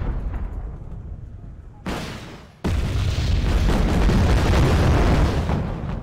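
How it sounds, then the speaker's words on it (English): Chinese artillery fire in the strategy video game Wargame: Red Dragon during a naval invasion battle, heavy booming blasts with a sharp burst partway through, followed by a sustained rumbling roar of impacts. "Chinese bombers. And Chinese artillery."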